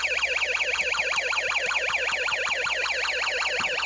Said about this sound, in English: But hit the push switch, and then the alarm will sound.